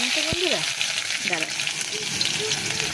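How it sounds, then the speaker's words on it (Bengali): An egg frying in hot oil gives a steady, close sizzling hiss throughout, with a voice talking briefly over it. "চলো ডিম ভাজা হচ্ছে"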